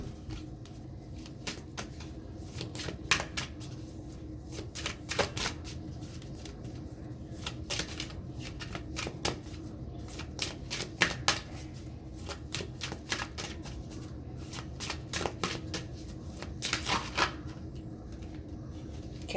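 Tarot cards being shuffled and rearranged by hand, soft close riffles and crisp slaps repeating irregularly throughout, with light rustling between bursts.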